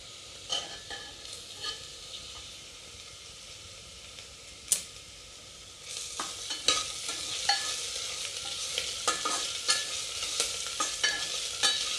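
Ginger garlic paste fries with onions in a pan for tomato bath, a steady close sizzle that thickens midway as a spoon stirs and scrapes with intermittent clicks, no voices.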